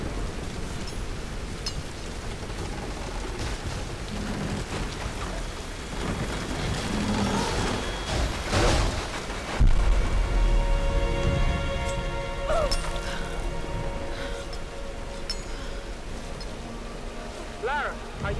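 Heavy wind and driving rain in the Tomb Raider video game form a dense, constant roar, with low rumbling bursts and a few brief sharper sounds partway through, while no one speaks.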